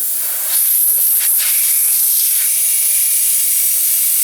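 Air hisses loudly and steadily from a Honda Rebel 250 motorcycle inner tube as its valve core is pulled out, a sharp onset that settles into a continuous rushing release with no talk over it.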